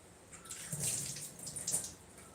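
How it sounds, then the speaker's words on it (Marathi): A tomato is rinsed under a running kitchen tap, a soft close water splash with two brief swells of flow over the fruit, alone without talk. "टोमॅटोला धुवून टाकायचं"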